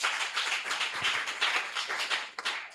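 A church congregation at a launch service applauding to acclaim the Lord: sustained, dense clapping from many hands in a room, steady and moderately loud, with no voices over it.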